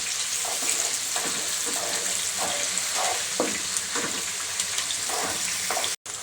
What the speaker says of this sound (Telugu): ఆనియన్స్ ఇవి ఒక ఒక రెండు నిమిషాల పాటు వేగనిద్దామండి